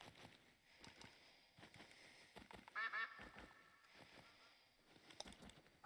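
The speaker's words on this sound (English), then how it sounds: "Yeah, quack." Ducks quack in the hunting game The Hunter: Call of the Wild, with a short burst of nasal calls near the middle over steady outdoor game ambience.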